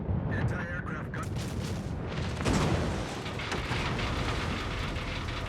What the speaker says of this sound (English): Anti-aircraft gun.